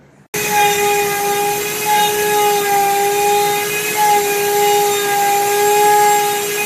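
A CNC machine starts up and cuts steadily, a loud continuous whine with sustained tonal hum and no pauses, running alone without talk.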